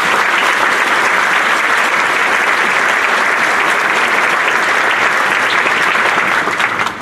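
Sustained, loud commencement audience applause for the college staff, thick continuous clapping from a large crowd that stays level for several seconds before beginning to fade at the end.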